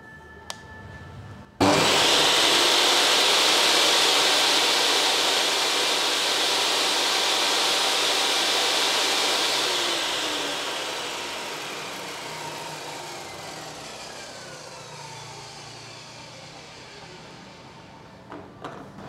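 A Bosch GTS254 table saw switches on and roars at full speed as a loud broadband whine, holding steady and then slowly fading as it spins down near the end.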